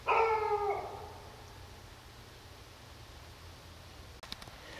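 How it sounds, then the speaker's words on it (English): A neighbor's dog lets out one drawn-out, wavering howl outdoors at night, fairly close, then fades into quiet night air with a faint knock near the end. "Now the neighbor's dog's freaking out."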